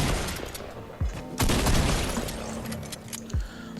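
Fortnite gunfire and RPG rocket blasts, several sharp booming shots and explosions in quick bursts, loud and close, with rattling debris between hits and no talking.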